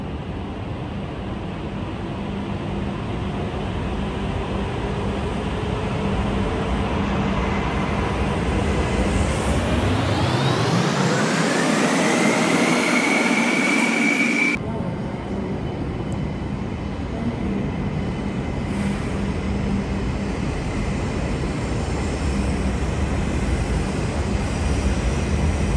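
E5 series Shinkansen bullet train running at speed, a steady roaring whoosh from on board that swells and rises in pitch, then cuts abruptly back to a lower, constant rushing drone.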